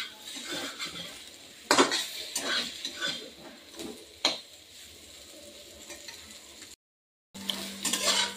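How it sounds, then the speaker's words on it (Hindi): Neem leaf powder being stirred and roasted in a pan, with a spoon scraping and clinking against the metal in irregular strokes and a light sizzle, close, broken by a brief silent gap near the end. "इसे अच्छी तरीके से हमें मिक्स कर लेना है, और 1 मिनट तक हमें इसे भून लेना है"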